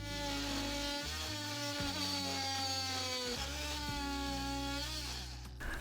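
A power tool cuts away a section of metal under an RV toy hauler, a steady loud grinding whine with shifting harmonic pitch running continuously and close up, easing off only at the very end.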